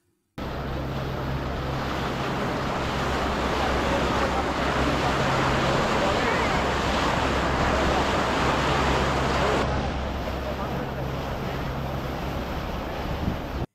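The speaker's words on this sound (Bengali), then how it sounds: "লঞ্চটি হুগলি নদীর টলমল জলের বুক চিরে ছুটে চলে ওপারে।" A ferry launch crosses the Hooghly river. Loud, continuous rushing wind and water churn over a low, steady engine drone for the whole stretch, with no clear break.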